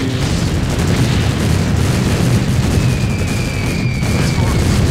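Dense, continuous rumble of bombing explosions in the strategy game Empire Earth, booms blending into a loud, unbroken roar with no clear gaps.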